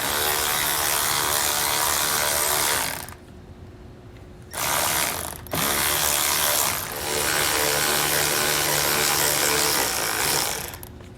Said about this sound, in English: we have a 3mm Allen head, and these unscrew